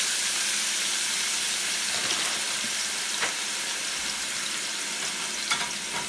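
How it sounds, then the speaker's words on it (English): Chopped scallions go into hot oil to season it for a chicken and pork curry, giving a steady soft sizzle and hiss with a few faint clinks and stirring sounds, no talking. "I'm going to add some of that to the oil to season the oil"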